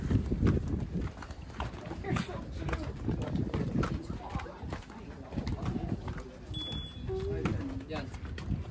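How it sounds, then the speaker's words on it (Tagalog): Horse hooves clip-clop steadily on a hard street in Greece, a continuous close rhythmic clatter heard under conversation in Filipino. "Kabayo na ito eh."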